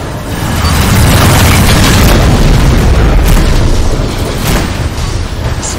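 A missile explodes in the space combat game Rebel Galaxy Outlaw, a loud, sustained boom with a rumbling low roar that fills the whole stretch and swells again near the end.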